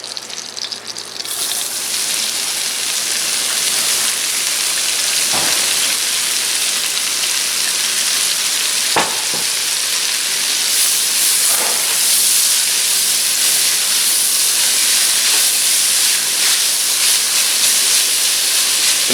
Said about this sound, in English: sweating them down means cooking and softening without color